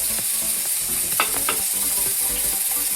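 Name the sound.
onions frying in hot oil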